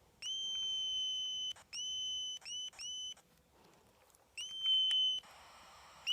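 Cheap pocket radio running on low batteries gives out a series of loud, steady electronic whistling tones, broken into several separate bursts with short gaps and ending in a harsher buzzing stretch.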